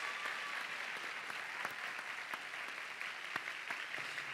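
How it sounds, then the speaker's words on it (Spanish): Steady applause from an audience at a university closing ceremony, a dense even patter of clapping with a few sharper claps standing out, held for several seconds at moderate distance. "por favor, a palmas para ellos"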